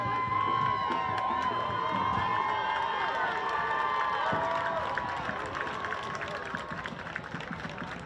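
A high school football crowd at a Friday night game cheers and shouts in a broad, continuous roar that carries through the stands and eases slightly toward the end.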